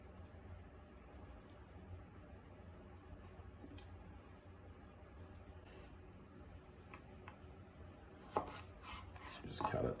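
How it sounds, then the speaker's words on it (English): Quiet knife chopping lamb into bite-sized pieces on a cutting board in a kitchen, soft irregular cuts with a couple of sharper clacks near the end. "Just cut it down into bite-sized pieces from there."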